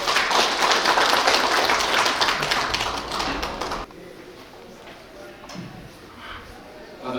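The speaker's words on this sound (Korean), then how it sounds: "뜨거운 박수로 맞이해 주시기 바랍니다" Audience at an ESG forum applauding warmly, a dense, loud burst of clapping that lasts several seconds and then cuts off, followed by quiet room tone.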